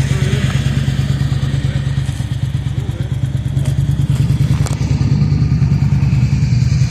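A motorcycle engine runs steadily and loudly throughout, a dense low rumble with pulsing exhaust and occasional clatter, heard close in a public setting without talk.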